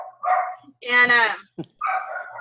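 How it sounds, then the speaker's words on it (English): Dogs barking in a home, a burst of several rapid close barks between stretches of a person talking, with a short yip after. "Pardon my dogs."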